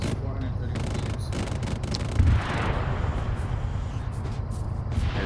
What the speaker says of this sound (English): There's the airstrike.